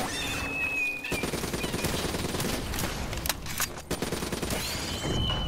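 Rapid automatic gunfire from a favored weapon in Call of Duty: Black Ops III zombies mode, loud sustained bursts with brief pauses and clattering impacts throughout.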